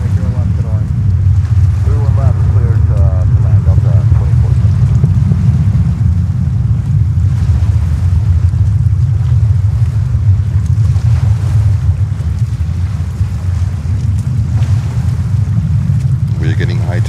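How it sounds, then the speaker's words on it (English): Water at high tide laps along the New York waterfront while a boat passes by, a loud, constant low rumble and wash buffeted by wind noise, with a voice talking over it. "We're getting high tide, so you hear the water a little bit, especially when a boat passes by."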